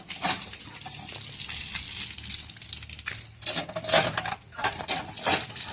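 Coriander leaves being washed in water, with continuous splashing and running water alongside light clinks of dishes and utensils, fairly loud and close throughout.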